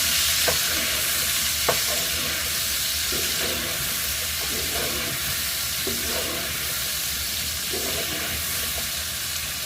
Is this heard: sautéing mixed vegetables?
yes